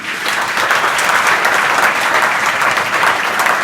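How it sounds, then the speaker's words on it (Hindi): Loud, dense audience applause for a student at a school session, steady and continuous throughout with no talking over it. "ये जो सच्ची लड़की उसके लिए जोरदार ताली हो।"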